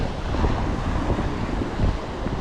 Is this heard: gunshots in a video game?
no